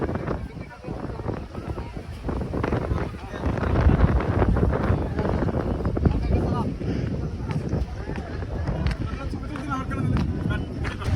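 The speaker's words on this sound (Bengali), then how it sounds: "হাওয়া চলতেছে প্রচুর" Strong sea wind buffets the microphone in a steady roar with broadband rumble, and people talk throughout over the blustery outdoor noise in Dammam, Saudi Arabia, on National Day.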